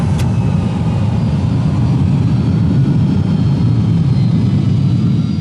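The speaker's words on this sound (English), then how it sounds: "the realistic sound both of the aircraft systems and their aerodynamic effects" A constant, dense low engine roar drones on without change, loud and close, like an aircraft engine running steadily.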